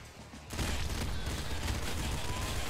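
A sudden burst of explosive noise in Nuclear Throne (Ultra Mod) erupts after a quieter moment and continues as a dense, sustained roar of blasts and crackling.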